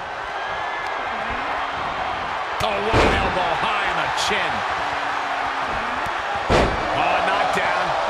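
A wrestler slammed to the mat during a WWE casket match, with two sharp, heavy impacts booming through the arena a few seconds apart over a constant crowd roar and commentary.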